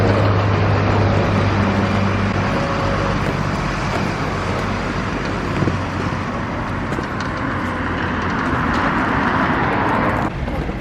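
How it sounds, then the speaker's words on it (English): Steady roar of many cars streaming along a road during road closures, dense continuous traffic noise with engine hum close by, no clear voices. "there's road closures, so there's a lot of cars going one way"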